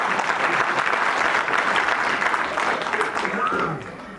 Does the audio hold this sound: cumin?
no